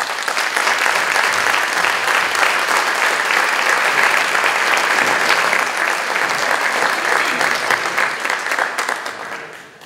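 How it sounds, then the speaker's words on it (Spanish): An audience in a lecture hall gives sustained, dense applause to restorer Elisa Campos after a presentation on restoring a San Agustín statue, steady and loud throughout before easing off at the very end. "fuerte el aplauso para Elisa Campos"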